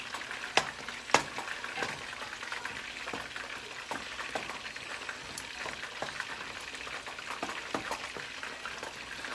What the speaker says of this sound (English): We've got to stir.